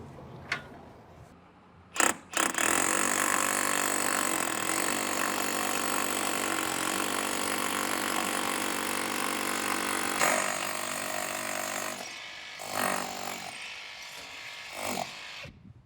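A power drill bores holes into an RV wall to mount a Feeney awning on a back lot, starting with a short burst, then running as one long, loud, continuous whine before stopping, followed by a few quieter knocks.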